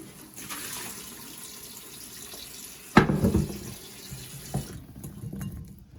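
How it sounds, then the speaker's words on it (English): Tap water running into a kitchen sink to rinse frozen lamb chops, a steady close stream with a sudden louder splash and gush midway as the food meets the flow, then tapering off. "I'm gonna rinse them again."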